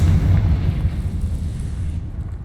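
In Hogwarts Legacy, the Confringo fire spell goes off as a heavy, close explosion: a dense, low roar that stays loud and rumbling, then thins slightly near the end.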